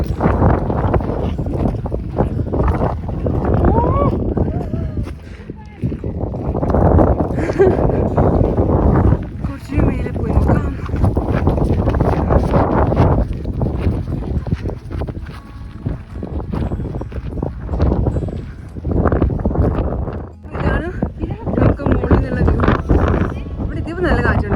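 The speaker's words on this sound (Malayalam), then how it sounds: "ഇപ്പം നല്ല കാറ്റുണ്ട്." Strong wind at the top of a climb near Kaindy Lake and Charyn Canyon in Kazakhstan, loud gusts buffeting the microphone in uneven surges while people talk close by almost the whole time.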